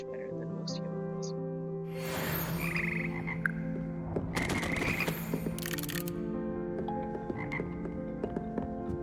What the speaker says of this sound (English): Here perch the slimy yet symbiotic frogs that comprise the Hogwarts frog choir.